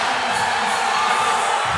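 A dense arena crowd at a strongman and strongwoman competition roars and cheers continuously, loud and close, with whoops in the mix.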